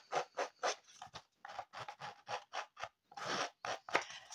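Repeated short scratching strokes on the edges of patterned paper, rough and rasping, in a quick uneven rhythm close by.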